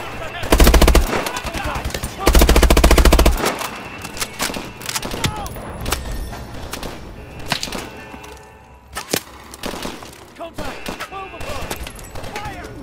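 Rapid automatic gunfire from Call of Duty: Advanced Warfare, with two loud sustained bursts near the start followed by scattered single shots and shorter volleys, while a voice talks over the action.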